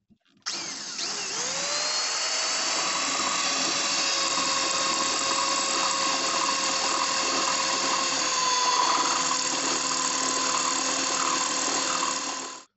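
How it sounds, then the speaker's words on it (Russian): A high-pitched drill whines steadily, boring a 10 mm hole through a piece of metal for about twelve seconds, starting abruptly and holding a constant, piercing tone until it stops. "беру все то же сверлышко и теперь делаю отверстие на"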